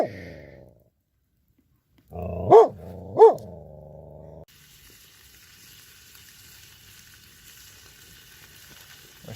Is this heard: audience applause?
no